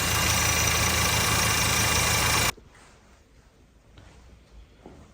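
A loud, steady idling engine drone from a Seat Leon 1.4 EcoTSI runs for a few seconds, then cuts off abruptly, leaving quiet background rustling and faint knocks.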